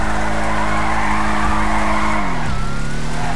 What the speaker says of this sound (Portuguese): Ó o drift, ó o drift